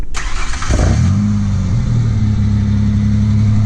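A 1996 Ford Ranger XLT engine cranks briefly, catches with a loud rev, then settles into a steady, even idle heard close up.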